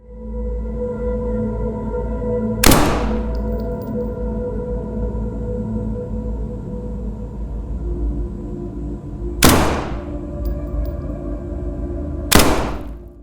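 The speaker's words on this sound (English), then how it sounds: "Take a look at this clip of me firing a pistol" Three separate pistol shots from the video game SCP: 5K, each a sharp crack over a steady low ambient hum, spaced several seconds apart with no talking.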